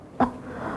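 A thirsty wolf puppet character gives a single short, sharp cough near the start, close and fairly loud, then falls quiet with faint room tone.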